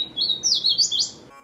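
A hooded warbler sings a bright, high, slurred phrase of several rising and falling notes, clear and fairly close, with no other sounds around it.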